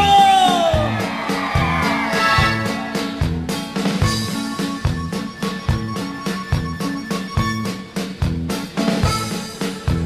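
A concert crowd in Acapulco whoops and shouts over loud, driving band music with a steady thumping beat, the cheers blending into the continuous wall of sound.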